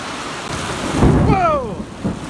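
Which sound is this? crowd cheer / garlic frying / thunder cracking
thunder cracking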